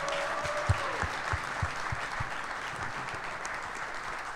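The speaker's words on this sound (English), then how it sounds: "how about a big round of applause tonight for Josiah Deguara and Bo Melton?" Applause from a live audience for Green Bay Packers players Josiah Deguara and Bo Melton at a clubhouse event, steady and moderately loud, with a few sharper claps standing out early.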